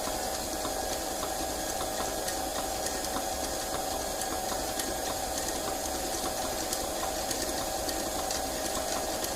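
A stand mixer beats a batch of dark brown sugar mixture, giving a steady, continuous mechanical whir with a rattling, gear-like edge that keeps going without a break.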